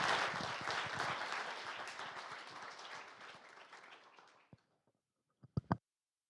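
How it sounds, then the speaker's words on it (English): A council chamber crowd gives a dense, loud round of applause for newly sworn police officers; it thins out and fades over about four seconds, followed by silence and a few last scattered claps. "let's give them one more round of applause for what they've just done"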